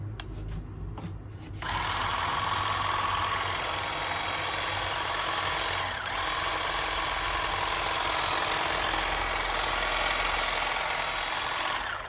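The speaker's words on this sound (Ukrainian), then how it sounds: "а ось ми наділи насадку кущоріз. Зараз увімкнемо батарею." A STURMAX 2-in-1 cordless battery hedge trimmer starts after a couple of clicks and then runs steadily, a loud, close, high-pitched motor whine with buzzing blade chatter and a brief dip midway.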